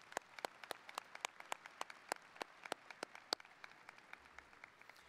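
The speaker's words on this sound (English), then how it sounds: "Can you give them a round of applause" At a high school graduation ceremony, a few people clap in a sparse, evenly spaced rhythm of sharp, quiet claps, heard alone in a hushed hall.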